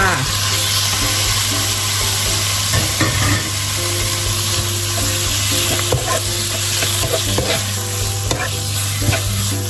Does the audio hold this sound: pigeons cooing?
no